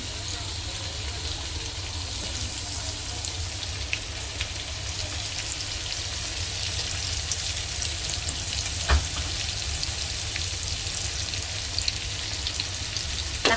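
A whole chicken fries in a pan, browning as it cooks, giving a steady broadband sizzle with crackle throughout and one sharp knock partway through, a faint voice occasionally underneath.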